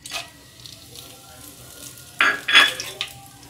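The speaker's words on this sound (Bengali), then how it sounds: "কিছু সময় এটাকে আমি একটু নেড়ে নিব গরম তেলের ভিতরে।" Bay leaves, cardamom pods, dried chilies and cinnamon sticks crackle in hot oil in a frying pan while being stirred, a low steady sizzle that flares into brief louder pops and spatters, with no talking.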